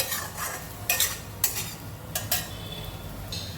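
A spiced potato mixture with ground roasted masala is stirred in a pan over a low sizzle. A utensil scrapes and knocks in irregular bursts, close and fairly loud.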